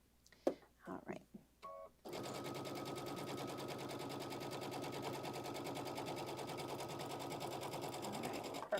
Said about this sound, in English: And I stitch all the way off the end.